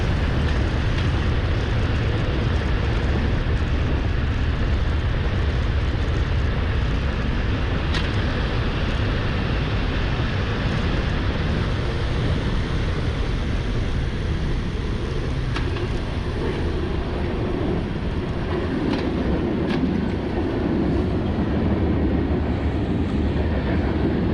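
A train passes a railroad crossing near Beaumont, Texas, heard from a stopped motorbike with its engine off: a continuous, heavy rumble and rolling clatter that holds steady and fairly loud throughout, with no talking.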